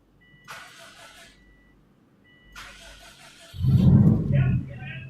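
A Subaru EJ20 engine with injectors turned off being cranked over, starter churning loudly near the end after quieter hissing bursts, with people talking.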